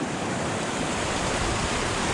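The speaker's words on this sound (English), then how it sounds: "There's two really good sized flows of water here that are joining together and dumping into this lake." Two sizeable streams of water join and pour into a mountain lake, giving a dense, steady rushing wash that stays constant and fairly loud throughout, with no talking.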